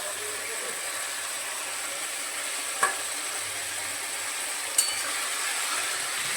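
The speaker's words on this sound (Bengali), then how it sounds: "মশলা কষানো হয়ে গেলে এর মধ্যে দিয়ে দেবো ম্যারিনেট করে রাখা চিকেন।" Marinated chicken and chunks of capsicum go into a spice masala frying in a pan, giving a steady broadband sizzle with two sharp clicks of a utensil against the pan.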